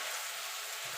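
Potato and eggplant sizzling in hot oil with mustard seeds, cumin and green chilli, a steady soft hiss with faint spattering, close and continuous without talk.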